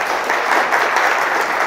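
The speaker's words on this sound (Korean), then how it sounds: "우리 박수로 한번 환영할까요?" An audience at a Korean church gathering breaks into warm applause to welcome a guest speaker. The clapping is dense, loud and even from many hands nearby, with no talking over it.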